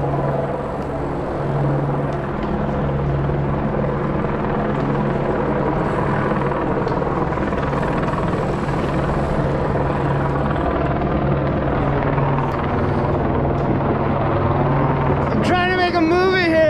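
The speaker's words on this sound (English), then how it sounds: "Helicopter." A helicopter passes overhead outdoors in town, its steady rotor and engine roar loud and continuous throughout, mixed with other background noise.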